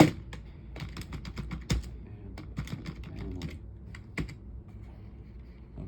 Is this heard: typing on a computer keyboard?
yes